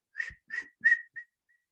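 A person whistles four short, clear notes in a quick sequence during a children's warm-up activity of clapping, snapping and other actions, with the last note faint and trailing off.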